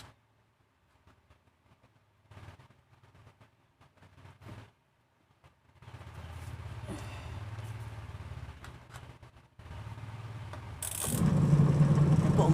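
A secondhand washing machine with a broken timer sits quiet with a few faint knocks, then its motor starts and hums steadily before surging louder near the end.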